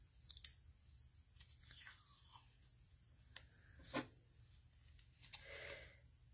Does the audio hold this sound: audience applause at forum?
no